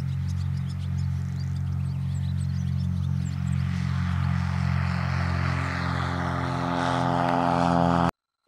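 A 1974 Cessna 182P Skylane's propeller engine drones steadily and loud at takeoff power, a constant harmonic hum with wind noise building toward the end before an abrupt cut.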